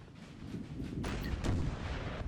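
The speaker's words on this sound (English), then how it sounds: "That artillery has a nice view here of the French troops before it, but it looks like it's aiming for the Polska forces down the road." Artillery cannons fire in a Napoleon: Total War battle, low rumbling booms and distant blasts over a continuous battlefield roar, faint and muffled.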